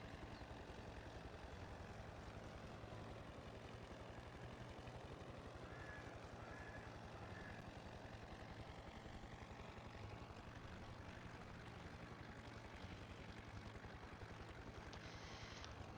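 A helicopter in Farming Simulator 22 drones steadily throughout, a continuous engine and rotor hum with no talk over it.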